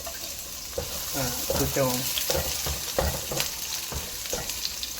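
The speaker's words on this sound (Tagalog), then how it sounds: "Una, sautihin natin ito muna. Siya. Ang white onion." White onion sizzles steadily as it is sautéed in a pan for a stir-fried beef and onion dish. A spatula stirs and scrapes at intervals, and someone speaks briefly over it.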